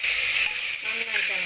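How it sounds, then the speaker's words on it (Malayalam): Onions fry with curry leaves and salt in a pan as they are stirred, giving a loud, close sizzling hiss with a faint scrape of the spoon, brief and steady. "നന്നായിട്ട് ഇളക്കി കൊടുക്കാം."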